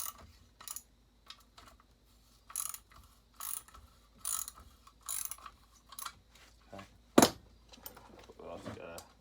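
Ratchet wrench with an 11 mm socket loosening bolts on a Husqvarna 1100cd snowmobile during an overhaul, giving repeated short bursts of clicking at close range, with brief pauses between pulls and occasional quiet talk.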